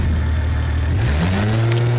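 Close and loud, the 3.2 liter V6 of an S3200 Wagon in BeamNG.drive rumbles low, then climbs sharply in pitch as it revs up over two seconds.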